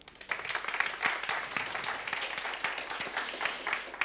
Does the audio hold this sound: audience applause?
yes